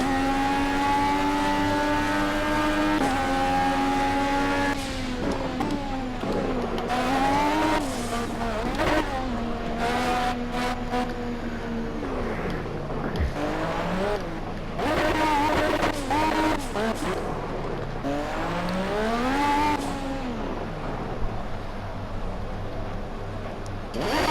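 Pagani Zonda R race car lapping in the racing video game Project CARS, its engine note rising and falling through gear changes at steady loudness, with occasional tire squeal and no talk.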